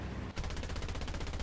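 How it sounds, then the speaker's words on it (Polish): Gun firing during a War Thunder tank battle, heard as a rapid, rhythmic burst of shots right after a brief lull, steady and fairly quiet over a low rumble. "No tu pierwszy strzał."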